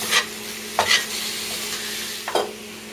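Two pounds of ground beef pushed and spread across a small frying pan, a steady sizzle with three short scraping strokes of a utensil, close and alone.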